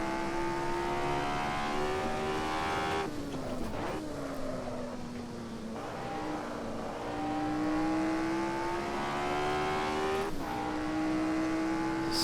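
Race car engine in Assetto Corsa at Brands Hatch, a steady loud drone that climbs in pitch through the gears, with brief dips at shifts around 3 and 10 seconds, heard alone without talk.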